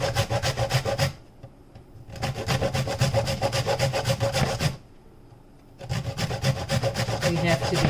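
A large piece of coconut rasped against a hand grater in long steady strokes, a loud gritty scraping that stops twice in short pauses and then resumes, heard close with no talk.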